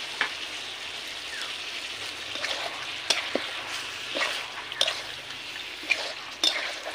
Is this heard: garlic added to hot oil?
yes